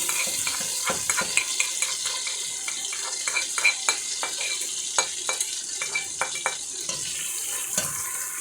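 Chopped onion fries in a pot for Finnish fish soup, giving a steady sizzle with repeated scraping stir strokes and clicks throughout.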